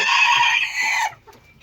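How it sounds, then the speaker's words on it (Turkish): An ornamental chicken in a coop gives a loud, dense clucking call lasting about a second, then the sound drops to quiet background with faint rustling. "Evet süs tavukları"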